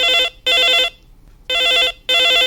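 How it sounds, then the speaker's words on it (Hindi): Telephone rings twice in a double-burst pattern on an Akashvani Raigarh radio phone-in request show, loud and clear with a short gap between the pairs. "लेवा उठाई आज के पहली फोन ला और गोट करी हमर संगवारी ले"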